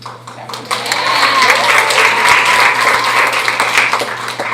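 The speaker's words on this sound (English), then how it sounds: "you've just given yourselves a round of applause" An audience at a women's leadership conference breaks into applause that builds over the first second and holds as a loud, sustained wash of clapping, with a low steady hum beneath.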